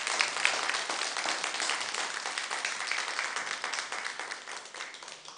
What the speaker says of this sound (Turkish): Bir alkışla kendisine gönderelim lütfen.